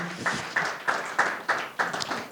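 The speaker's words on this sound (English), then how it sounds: "give her also again a warm applause" Small lecture audience at an Afro Berlin academic event clapping in a slow, even rhythm, about seven distinct claps fairly close and moderately loud, with little else around.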